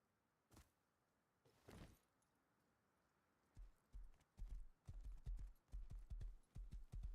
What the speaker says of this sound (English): he just thinks his horse is walking along